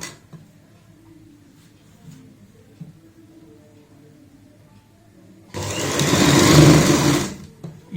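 A sewing machine stitches a roughly 1.5-inch fabric strip onto a baby frock with a quarter-inch margin, running in one loud steady burst near the end after a quiet stretch of handling.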